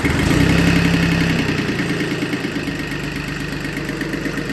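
An Iseki compact tractor's diesel engine runs loud and close throughout, settling from a higher initial surge into a steady, even idle with no talking.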